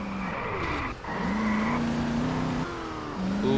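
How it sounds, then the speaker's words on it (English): Handbrake skid of a purple car in the video game Just Cause 2: a sustained engine whine with rising gear-shift sweeps, a brief dip, then tire squeal and revving resuming, loud and close with no voices. "Ooh, that handbrake."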